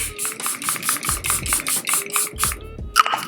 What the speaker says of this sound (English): Setting spray and set our makeup.